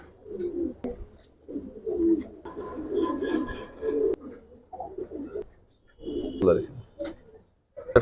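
Giribaz pigeons coo in a loft, a steady run of soft low cooing calls with brief pauses between them, close by, with occasional light chirps and faint talk in the background.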